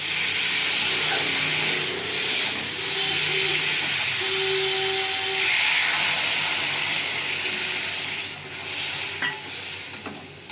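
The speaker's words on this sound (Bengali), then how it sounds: "ঢেঁড়স আলু ভালো করে মশলার সঙ্গে কষে নিয়েছি, এবার আমি জল দিয়ে দেবো।" Okra and potatoes fry in spices as water is added, giving a loud continuous sizzle and hiss with stirring, easing slightly toward the end.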